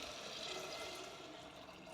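Water pouring into a pan of vegetable kurma gravy, a steady rushing stream that runs continuously at moderate level with no talk over it.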